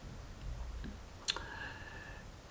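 A single sharp mouse click selecting an option on a universal remote control setup screen, faint and brief amid quiet background hiss.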